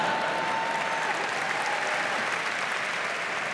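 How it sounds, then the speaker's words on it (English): A large audience applauds at the 76th Primetime Emmy Awards ceremony, producing a thick, continuous roar of clapping. It is loud and steady from start to finish and fades only slightly at the end. "Why are we applauding bad parenting?"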